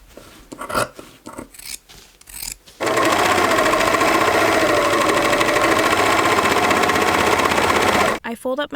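A serger overlocks the trimmed 3/8-inch seam allowance of a pair of pants as they are let out. A steady, loud mechanical whir runs for about five seconds, with a voice speaking briefly before and after it.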